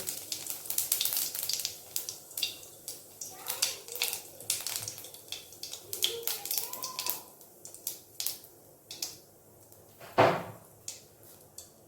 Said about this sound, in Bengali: সর্ষের তেলটা ভালো করে গরম হয়ে এসছে এবার এর মধ্যে দিয়ে দেব হাফ চামচ জিরে